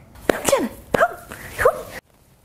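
A female dog gives three short, close, whiny yips and barks in quick succession, each rising and falling in pitch, then silence.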